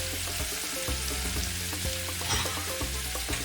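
Onion, garlic and pepper sizzle steadily in a hot pan, a dense close hiss with light knocks and scrapes from stirring scattered throughout, and no one talking.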